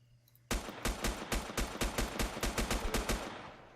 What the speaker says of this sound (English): I'm over here in the middle of a firefight